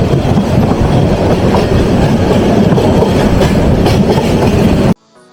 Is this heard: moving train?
yes